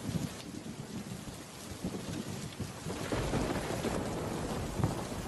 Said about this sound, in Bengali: দেখো কেমন মেঘ ডাকছে, বৃষ্টিও দেখো কত জোরে জোরে পড়ছে।